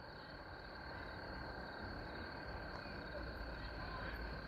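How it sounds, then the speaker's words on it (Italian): Toads and cicadas at a lake at night make a steady, faint, continuous chorus of buzzing and high trilling that stays even throughout, with no voices over it. "Rospi e cicale si sentono in questo momento."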